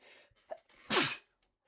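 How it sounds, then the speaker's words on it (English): A single loud human sneeze bursts out after a short breathy inhale, then gives way to silence. "I've been sneezing all day"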